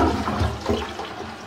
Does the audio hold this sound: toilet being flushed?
yes